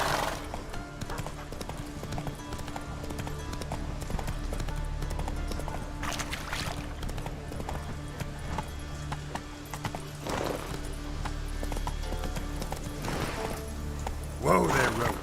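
Roach the horse trotting in the video game The Witcher 3, a steady rhythmic clip-clop of hooves with a few whinnies and bursts of noise, under occasional game voice dialogue.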